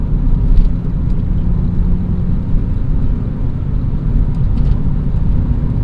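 A 1998 BMW M3 E36 with an S52 engine driving, heard from inside as a constant low rumble of engine and road noise, steady and fairly loud, no talking.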